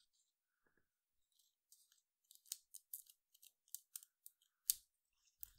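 Scissors trim a sheet of clear acetate for a small motion craft card, a run of crisp, close snips in an uneven rhythm, each cut a sharp bright click, heard alone in a quiet room.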